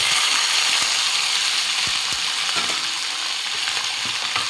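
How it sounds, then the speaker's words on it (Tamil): Eggplant pieces frying in oil tempered with mustard seeds and cumin, a loud continuous hiss and crackle with scattered faint ticks, close by. "இப்போ நம்ம கட் பண்ணி வச்சுருக்க இந்த கத்திரிக்காவை ஆட் பண்ணிடுறோம்"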